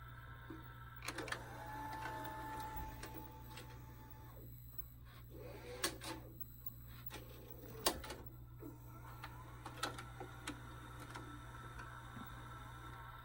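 A 1992 Shintom VCR450 VHS recorder rewinding a threaded tape: a quiet, steady mechanical whir with a low hum underneath and intermittent clicks and ticks from the transport.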